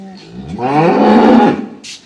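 A dairy cow at Maruf Dairy Farm in Nilphamari lets out a single loud, close moo lasting about a second, a deep drawn-out bellow rising and falling, heard alone.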